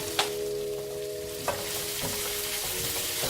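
Steak and carrots stir-frying in a hot pan, a steady close sizzle broken by a few sharp clanks and scrapes of a utensil stirring the food, with no talking.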